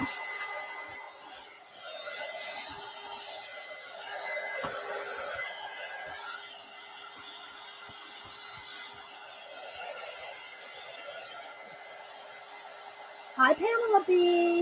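Hair dryer blowing on a chess-themed collage disk, a steady whirring hum that holds for most of the clip, with a person talking over it and a sharp higher tone near the end.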